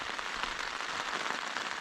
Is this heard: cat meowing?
no